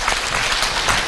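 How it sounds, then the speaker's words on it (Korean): Audience applause at a gum-health day talk concert, a loud, dense, continuous burst of many people clapping together, with no talk. "박수 좀 쳐주세요."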